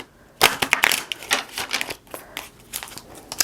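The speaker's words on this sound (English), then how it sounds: "That was a poor shuffle." Tarot cards are shuffled by hand close up in a series of quick, crisp riffling and crackling bursts with uneven pauses between them, at moderate loudness and with no speech.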